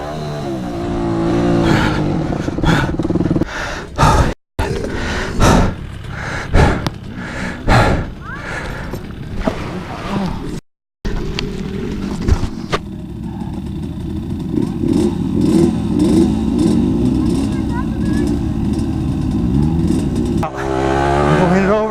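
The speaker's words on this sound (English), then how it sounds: "I'm about to realize just how tiring riding motocross can be." A motocross dirt bike ridden on a vet track in Arizona, the engine revving and accelerating up close with bumps and clatter, and a rider talking over it.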